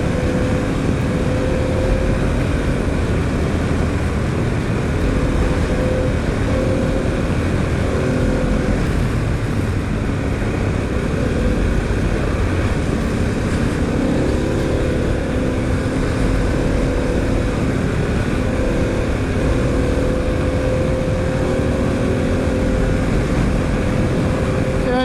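A Harley-Davidson Pan America adventure motorcycle ridden in sport mode, its engine droning steadily for the whole stretch with rising and falling revs under heavy wind rush, close and loud.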